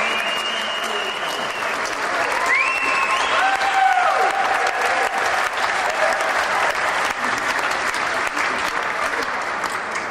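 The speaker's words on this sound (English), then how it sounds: "Can we just have a special round of applause for Adrian and the team" Sustained applause from a large crowd at an awards evening, a steady wash of clapping for ten seconds with faint voices and whoops mixed in.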